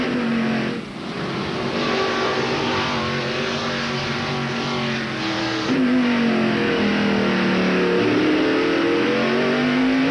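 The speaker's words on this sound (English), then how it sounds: "Riding with Rusty Wallace, 3rd place." A NASCAR Winston Cup stock car engine heard onboard during the 1995 race at Sears Point, loud and continuous, rising and falling in pitch through gear shifts and acceleration.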